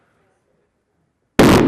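A two-to-one hydrogen and oxygen mixture explodes in a live lecture demonstration, a sudden loud bang bursting out of near silence near the end.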